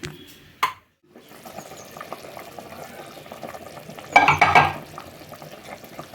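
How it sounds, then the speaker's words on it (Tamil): Low bubbling of water on the boil in a pot for mutton biryani, steady and close, with a brief clatter partway through and a louder burst of rolling bubbles near the end. "தண்ணி நல்லா கொதிச்சிருச்சு."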